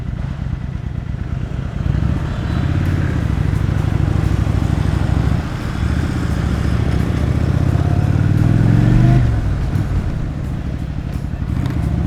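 A 1999 Kawasaki VN 800 C Drifter motorcycle engine rumbles close by with a throbbing low V-twin pulse, revving up and holding higher for several seconds before dropping back to a loping idle.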